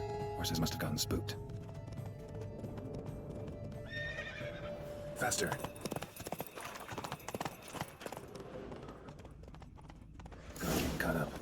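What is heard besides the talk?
horse galloping in The Witcher 3 video game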